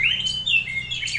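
A green leafbird in breeding condition sings a run of bright, high chirps and whistled tweets in quick succession, clear and fairly close over faint low background noise.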